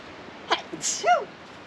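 A single quick sneeze, close and clear, with a short sharp intake and burst, followed by quiet.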